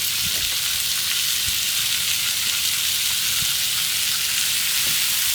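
Shrimp sizzle steadily in hot oil on a flat griddle, a dense, even hiss of frying with faint pops and crackles underneath, continuous and close with no voices.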